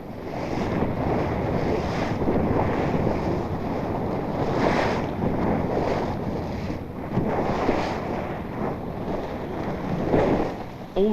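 Strong wind and a lumpy, rough sea during the 1974 One Ton Cup yacht race: steady roaring gusts and wind buffeting on the microphone, with surging waves washing around the boat, loud and continuous throughout.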